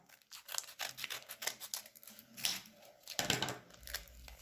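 Gift package being opened by hand: close, quiet bursts of tearing, cutting and crinkling packaging, irregular and rapid, with a louder rip near the end.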